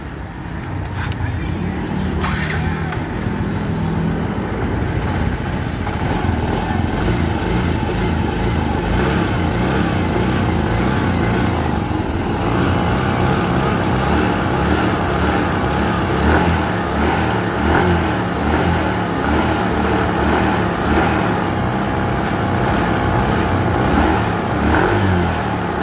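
A 125cc motorcycle with a fitted new spark plug, previously sputtering and losing power under throttle, runs and revs steadily and loudly throughout, its engine drone continuous with some voices underneath.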